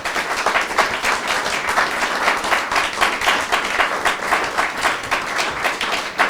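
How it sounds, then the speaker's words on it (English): Audience applause at a talk on the history of the Democratic Party: a dense, steady wash of many hands clapping, sustained and fairly loud throughout, with no one speaking over it. "round of applause for everyone?"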